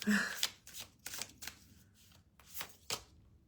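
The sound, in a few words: shuffling a deck of cards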